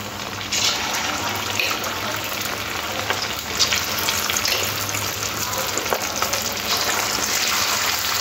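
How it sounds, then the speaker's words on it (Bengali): Chicken pieces fry in hot white oil in a wok, a loud, continuous crackling sizzle with occasional stirring clatter and spitting bursts, close and steady throughout. "টুকরোগুলো দিয়ে একটু ভেজে নেব।"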